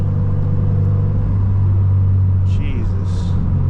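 A slammed Subaru BRZ engine drones low and steady from inside the cabin while driving, a constant close rumble with faint voices over it.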